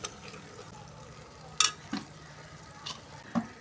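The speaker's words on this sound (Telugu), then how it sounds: "ఈ మిరప్పొడి, పసుపు పొడి వేసి బాగా కలుపుకోవాలి." Chili powder and turmeric being stirred into a pot for chana dal curry, quiet bubbling and sizzle under a few sharp spoon clacks against the pan, close up with no talking.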